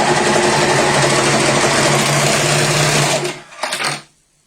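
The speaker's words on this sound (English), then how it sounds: "Because we're going to overlock it in." An overlocker serger sews along a fabric edge at a corner, its loud, steady motor hum and rapid stitching running continuously for about three seconds before stopping, followed by a brief rustle and a quiet tail.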